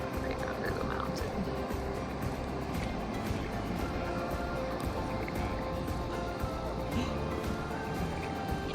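River rapids rush steadily beneath a mountain waterfall in Banff National Park, a dense, continuous roar filling the scene throughout with faint voices under it.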